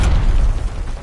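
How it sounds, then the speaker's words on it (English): A concussion grenade going off in Call of Duty Black Ops, one heavy close boom with a deep rumbling tail that fades over about a second. "Concussion grenade."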